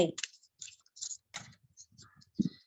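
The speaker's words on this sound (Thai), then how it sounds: "ก็สับไพ่" A deck of Buddhanubhap oracle cards being shuffled by hand: sparse, light clicks and soft flicks, close and quiet, with brief gaps between them.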